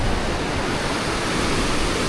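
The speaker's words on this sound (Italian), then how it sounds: "Qua ci sono tipo delle rapide perché si stringe molto." River rapids rush through a narrow rocky gorge, a loud, dense, continuous roar of churning water with no pauses, close by.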